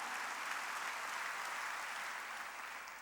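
Steady, dense applause from a church congregation during a worship service, a continuous wash of many hands clapping at moderate distance with no pauses.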